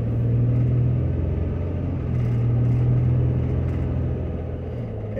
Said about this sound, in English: Alright, I'm gonna drive down Cross.